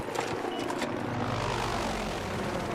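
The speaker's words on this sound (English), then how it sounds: "Chopper." In the Battlefield 6 shooter game, a helicopter thrums overhead with a steady, loud rotor and engine roar that swells and sweeps across the clip, with a few sharp impacts early on.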